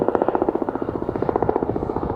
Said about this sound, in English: Here comes in another Chinook